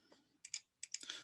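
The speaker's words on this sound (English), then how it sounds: "start typing" A handful of light computer keyboard keystrokes and clicks in two short bursts, close and fairly quiet, with no talking.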